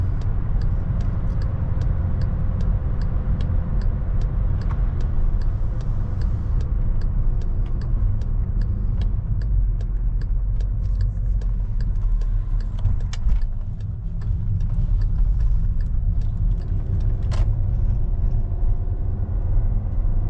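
A 2014 VW Tiguan R-Line drives along with a steady, close engine and road rumble that holds for the whole stretch, with a brief dip as it brakes hard for a turn.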